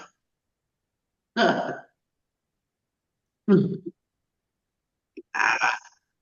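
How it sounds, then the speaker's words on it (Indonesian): Three separate coughs, close and loud, spaced a couple of seconds apart with silence between them. "Saya batuk."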